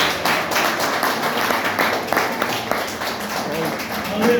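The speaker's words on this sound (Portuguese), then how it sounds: "E as palmas louvam ao Senhor Jesus." A church congregation clapping hands in praise during an evangelical service, dense rhythmic clapping filling the room, loud and continuous with some voices and background music underneath.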